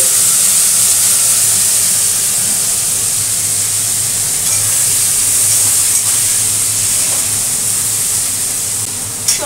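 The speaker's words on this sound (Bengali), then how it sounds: "সবজিগুলো একটু ভাজা ভাজা করব" Vegetables fry in a hot pan with a loud, continuous sizzle and steamy hiss that holds steady and close throughout, ending with a small clatter.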